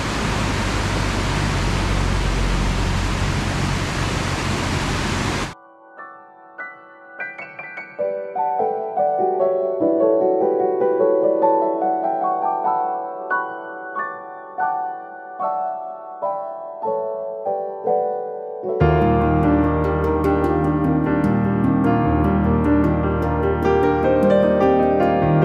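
A river rushing at Thusharagiri waterfalls gives a steady, loud, broadband roar for about five seconds before music abruptly takes over for the rest of the clip.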